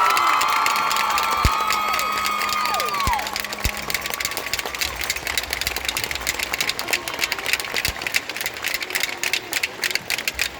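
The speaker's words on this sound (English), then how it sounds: "Can we give one more round of applause, please?" Arena crowd at a Texas 4-H State Roundup cheering and shouting loudly and steadily throughout, with dense applause and whistles filling the space, some voices rising above the roar.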